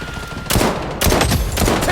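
Gunfire from an SVD semi-automatic sniper rifle in the shooter game Blood Strike, heard as heavy, loud, booming shots fired in quick succession, with reverberating tails between them.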